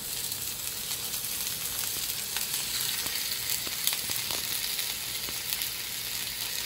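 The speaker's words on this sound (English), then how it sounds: "we're just supposed to sear them. Got the oil in there." Pork chops searing in hot oil in a pan give a steady, close sizzle with scattered pops and crackles throughout, and no one speaks.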